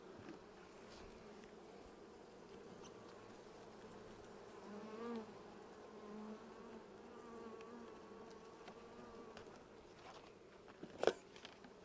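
Honeybees buzzing around outdoor hives during a weekly maintenance inspection: a steady, dense drone of many bees close by, with a brief sharp knock near the end.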